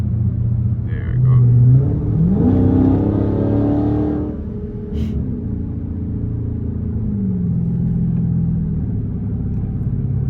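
A Dodge Scat Pack car engine idles with a deep rumble, revs up briefly with a rising growl, then settles back to a low, steady exhaust drone.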